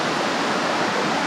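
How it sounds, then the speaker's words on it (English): Water rushes steadily down an Arkansas waterfall creek, a close, loud, continuous broadband roar with no pauses and no voices. "The sound of the water flowing is amazing."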